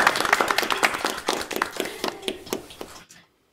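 A run of quick hand claps, about a dozen sharp slaps in a steady rhythm, close and fairly loud, ending abruptly into silence.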